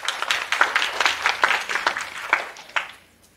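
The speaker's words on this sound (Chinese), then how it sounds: "掌声感谢 Jack。" An audience at a security conference applauds a speaker, a burst of crisp, scattered claps from a modest crowd that swells briefly and then fades away into quiet.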